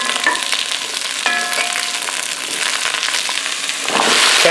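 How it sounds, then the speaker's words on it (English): Leeks sweating in extra virgin olive oil in a pan, giving a steady, close hiss and sizzle with a few small clicks, swelling louder toward the end. "I'm going to sweat off these leeks, a little extra virgin oil."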